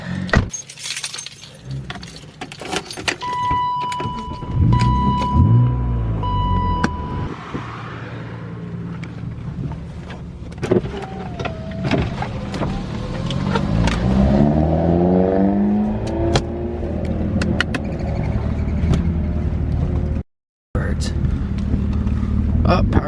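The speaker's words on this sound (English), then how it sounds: "That power steering does not sound good." A Nissan 350Z fitted with a Wisefab steering kit makes a strained whining and groaning power-steering noise while driving, mixed with engine and drivetrain rumble, rattles and clunks, with a voice talking over it.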